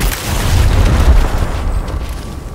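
A frag grenade detonates in Gears Tactics with a heavy, close boom, its deep low rumble swelling and rolling on for a couple of seconds before slowly fading.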